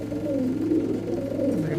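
Highflyer Giribaz pigeons cooing in a loft, a continuous low, throaty, wavering coo close by that fills the clip with faint background noise.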